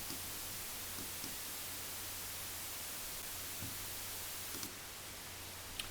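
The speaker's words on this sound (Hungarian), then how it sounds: "Kezdjük a tiszta fehér zajjal." Raw white noise is played back as a steady, full, unchanging hiss, loud and continuous, with a slight shift in tone near the end and a few faint ticks.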